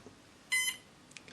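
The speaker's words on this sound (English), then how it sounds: "got a single beep" A Cobra electronic speed controller for an RC plane gives a single short, high electronic beep on power-up, near and clear amid quiet background noise.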